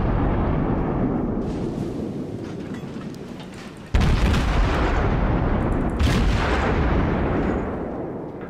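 Heavy warship guns firing in the naval game World of Warships from a Des Moines tier X cruiser, a rumbling roar of gunfire with a sharp loud boom partway through and another blast after it, no talking.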